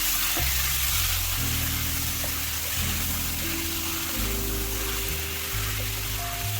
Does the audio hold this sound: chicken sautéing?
yes